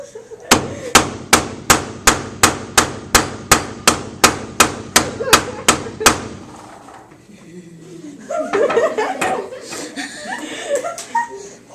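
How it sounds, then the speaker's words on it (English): A hammer beats a piece of soft lead metal flat in about fourteen loud, evenly spaced ringing blows, then stops; chuckling and talk follow. "I flattened it out using the hammer."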